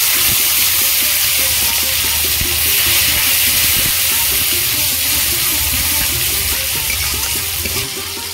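Dry red chilli, cardamom, cloves and cinnamon sizzle in hot oil, a steady close crackling hiss that keeps up without a break.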